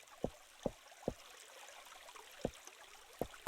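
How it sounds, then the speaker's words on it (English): Steady, faint flowing water in a Minetest game world, a soft continuous stream hiss running under several sharp, evenly spaced clicks and a louder knock at the end. "And you could hear the water."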